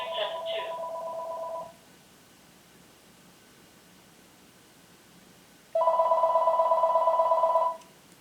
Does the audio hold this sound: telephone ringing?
yes